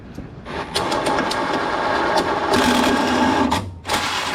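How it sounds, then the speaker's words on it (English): A drill fitted with a right-angle extension and a step bit cuts into a steering column during a Unisteer E-body modification: a loud, close, steady motor whine running in long bursts with short pauses. "drill, extension, right angle, step bit time"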